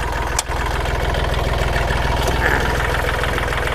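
A used Kubota L3608 or Yanmar EF393T tractor engine idles with a steady low throbbing rumble, constant and close, with no talking.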